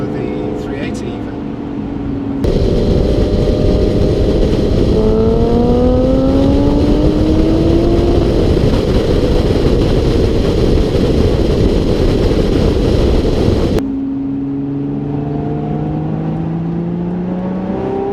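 A Lotus Evora Sport 410 revving hard while driving, its engine note climbing loudly through the gears before a gear change cuts it, then rising again more quietly from inside the cabin.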